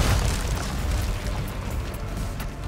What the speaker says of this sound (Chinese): 丢手雷炸得多，就可以看到锁链全部都炸飞了